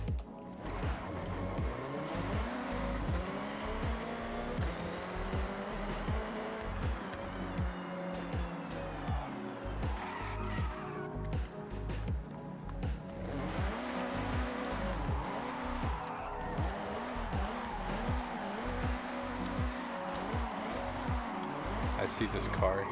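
Nissan Silvia S13 touge build ripping donuts in Forza Horizon, engine revving and tires squealing in repeated looping skids, with a voice talking now and then over the racket.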